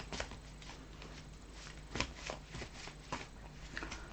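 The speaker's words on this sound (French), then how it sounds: "Je préfère tirer les cartes" Tarot cards shuffled and drawn by hand, a close, steady papery riffling with soft flicks and a few sharper snaps, no voices.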